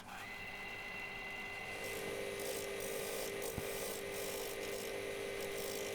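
A wood lathe turns a bog oak bowl mounted off-centre on a faceplate at the back of the machine, giving a steady close whir and tool rasp that brightens partway through, with one sharp knock.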